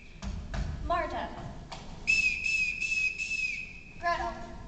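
A captain's whistle signal calling the children sounds as a shrill run of short pitched blasts, then one long sustained tone and a closing burst of quick notes, loud and near, with faint background movement.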